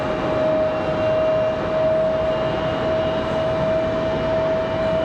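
An American Airlines Boeing 737 at Raleigh Durham airport gives a loud, steady jet engine roar with a constant whine, unbroken throughout.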